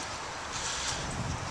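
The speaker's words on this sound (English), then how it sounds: "It's just windy, which you can probably hear, and it's raining and it's cold." Wind buffets the microphone on a cold, rainy morning, a steady broadband rush that swells slightly through the middle and holds throughout with no talking.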